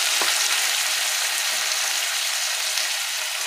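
Chopped vegetables for a rohu fish and pineapple fry hit hot oil in a pan, giving a loud, steady sizzle with a brief clatter at the start as they go in, then continuous frying hiss.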